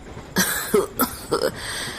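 An old man's run of rough, throaty coughs, four or five close together, loud and near.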